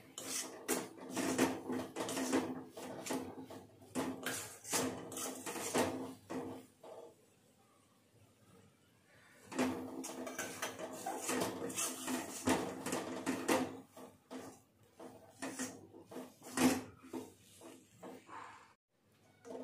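Gram flour and fenugreek being stirred and sautéed in a pan for methi zunka, with repeated scraping and clinking of a spatula against the pan in irregular bursts, close and fairly quiet, while someone talks over it.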